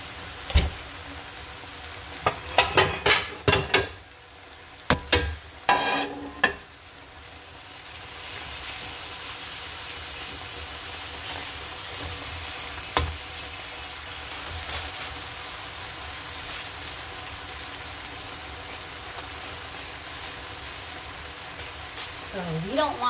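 Steak for a carne asada quesadilla fries in a pan, heard as a continuous close hiss and sizzle after a stretch of clattering handling sounds and bursts of loud activity early on.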